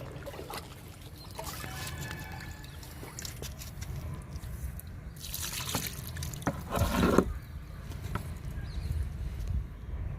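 Homemade liquid fertilizer poured onto a small star fruit plant, a soft trickling and splashing of liquid with a brief louder gush near the end, close and fairly quiet with no speech.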